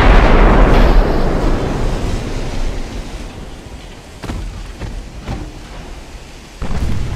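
A torpedo explodes against a battleship in the naval game Ultimate Admiral: Dreadnoughts, a loud low rumbling blast that decays over several seconds, with a few sharp cracks and a second surge of roar near the end.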